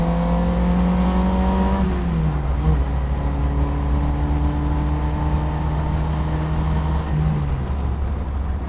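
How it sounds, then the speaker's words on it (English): A Honda S600 with its 600cc engine and chain-driven rear end revs hard past 9,000 RPM, a loud, continuous high-pitched wail that climbs, drops with each gear change and climbs again, with no talking. "you hear the chains, you hear the engine revving out"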